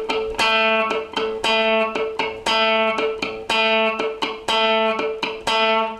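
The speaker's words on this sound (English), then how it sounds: "Perhaps try playing the note and then 2 clicks." Distorted electric guitar plays a repeating pattern: a sustained note, then two short muted clicks, cycling steadily several times with no talking.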